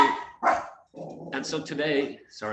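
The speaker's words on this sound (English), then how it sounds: "that was the dog." A dog barks a few times at close range, short sharp yelps spread across a couple of seconds and mixed in with a man's speech indoors.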